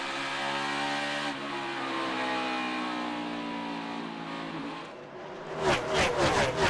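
NASCAR race cars at Bristol roar past, one engine's pitch sliding down as it goes by before a louder, rougher burst of cars sweeps through near the end; no talk over it.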